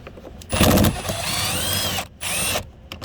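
A ratcheting socket wrench backs a 10mm bolt out of a 2013-2022 Lincoln MKZ front door, giving close buzzing ratchet bursts in two runs with a brief pause between.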